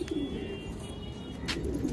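Pigeons coo softly and continuously nearby, a low repeated murmur with faint chirps and a brief rustle over a steady background, no talking.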